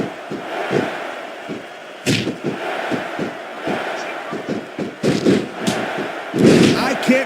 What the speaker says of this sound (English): I can't remember the last time I seen a crowd so pumped up.